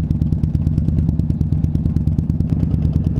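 Group of motorcycles on a ride, a dense steady engine rumble with rapid rhythmic clattering pulses, close and loud throughout with no talk.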